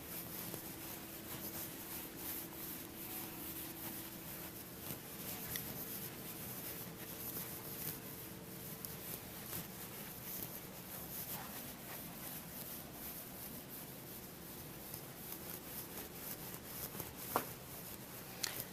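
Whiteboard marker eraser rubbing across a classroom board during a physics problem session, a steady soft scrubbing texture that runs throughout at low level, with occasional faint knocks and no voices.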